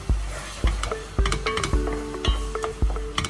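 Seafood such as cuttlefish and squid sizzles in a pan after a splash of white wine, a steady hiss punctuated by regular knocks and scrapes of a spoon stirring against the pan, close and unaccompanied by speech.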